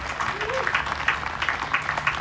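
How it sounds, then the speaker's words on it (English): An outdoor jazz concert audience on a town green applauds with dense, steady clapping, the crowd's noise lightly layered under the claps. "How about one more round of applause for the Jazz on the Green series"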